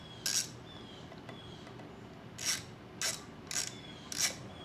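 Wrench ratcheting on a brake bleeder screw that is already leaking fluid: five short, sharp metallic clicking bursts, the first alone and then four more in a quicker irregular run, close and fairly quiet over a low background hum.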